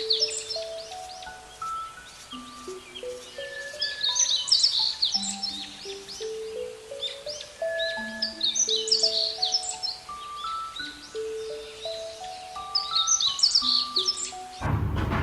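Morning birdsong in Dhaka: many birds chirp and whistle in overlapping short tonal phrases, steady and fairly close throughout, with no talking.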